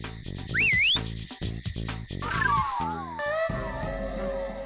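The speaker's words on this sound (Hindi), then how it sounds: "जरूर ये सीटी की आवाज अंदर से आ रही है।" Sliding cartoon whistles rise and warble in a spooky comedy scene, several swooping tones layered over bouncy background music with no talking.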